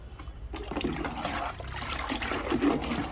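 Homemade leaf liquid fertilizer pours and splashes onto indoor plants in soil and coco peat, an uneven close trickle and gurgle of water with a few louder splashes.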